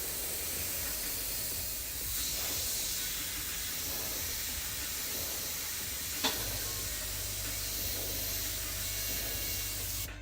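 Airbrush spraying paint at a low 18 PSI, a steady close hiss of air and spray that runs unbroken throughout, with one brief click partway through.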